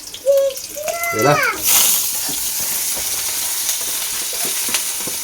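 Onion, garlic, ginger and coriander leaves frying in a pan, a steady sizzle running throughout, with a voice and a few brief bird-like chirps over it early on.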